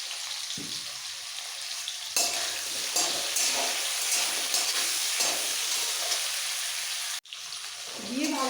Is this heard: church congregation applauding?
no